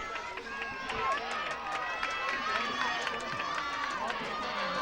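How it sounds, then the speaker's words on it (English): A large crowd roars and chants continuously across the whole stretch, a dense wall of voices with an announcer-like voice faintly mixed in. "Got a chant going."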